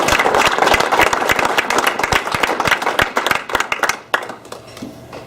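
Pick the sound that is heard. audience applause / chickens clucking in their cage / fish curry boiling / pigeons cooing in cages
audience applause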